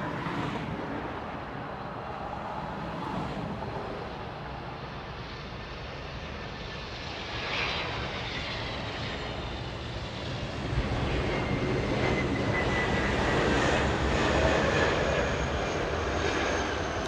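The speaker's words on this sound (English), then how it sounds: "Touching down right in front of us. Did you see that? A little late touchdown by the 767" A Delta Boeing 767 lands at Los Angeles International Airport, its engines roaring broadly and steadily nearby and swelling louder toward touchdown, with no talk over it.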